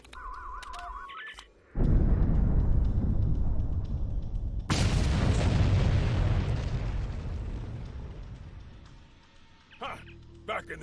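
A huge explosion in the Star Trek Online video game: a sudden deep roaring blast, followed by a second loud burst that rumbles and slowly fades, with a voice briefly heard near the end.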